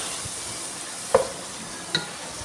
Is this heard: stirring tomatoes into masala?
yes